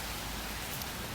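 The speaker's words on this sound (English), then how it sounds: "The rain's sort of, it's still coming down, but it's not as heavy." Steady rain falls outdoors in an even, soft hiss with no breaks, moderately quiet and with no voices over it.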